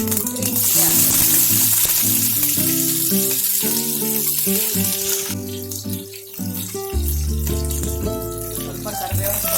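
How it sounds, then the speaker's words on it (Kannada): Mustard seeds crackle and sizzle in hot oil in a pan, a steady frying hiss under tonal background music with no clear speech. "ಈಗ ಡೋಕ್ಲಾ ಮೇಲೆ ಹಾಕೋದಕ್ಕೆ ಒಂದು ಪ್ಯಾನ್ಗೆ ಎಣ್ಣೆ ಹಾಕೊಂಡಿದ್ದೀನಿ. ಸ್ವಲ್ಪ ಸಾಸಿವೆ ಹಾಕ್ತಾ ಇದ್ದೀನಿ."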